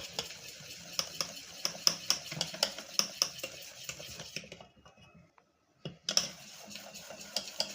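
Brisk rhythmic stirring of batter tinted with orange food colour for motichoor laddu, with quick close clicks of a spoon against the bowl, then a brief pause before the stirring resumes.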